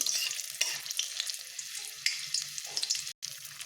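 A tempering of green chillies and whole garam masala fries in hot oil with a constant, moderate crackle, occasional louder spits and faint stirring, broken by a split-second dropout near the end.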